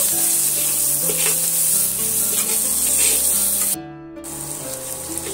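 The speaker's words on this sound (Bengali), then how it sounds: "দিয়ে আমি ভালো করে পেঁয়াজটা আবারও ভাজা ভাজা করে নেব।" Onions sizzle loudly and steadily in a hot pan, a continuous frying hiss that briefly dips partway through before resuming.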